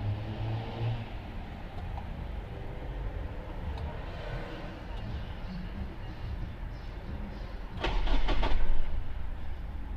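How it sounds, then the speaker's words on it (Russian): A car engine cranks through an alarm system's remote auto-start and fails to fire, heard as a faint low churning under background noise with a brief louder burst near the end. "Даже третий не завелся, четвертый сейчас."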